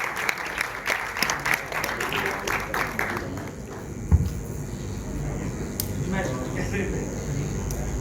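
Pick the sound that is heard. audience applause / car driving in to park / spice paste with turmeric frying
audience applause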